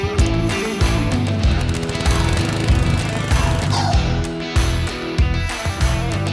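Saw biting through a 2x6 board at a miter box, a loud grinding buzz cut by a few brief pauses across the stroke, close and alone with no talk.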